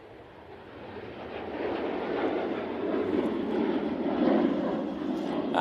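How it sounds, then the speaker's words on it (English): A Ryanair airliner takes off from Manchester Airport bound for Santander, a fairly faint, distant engine roar building gradually over a few seconds. "That's Ryanair off to, I think it was Santander"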